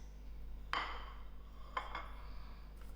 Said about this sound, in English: To the bottom of my roasting pan, I'm going to add in my vegetables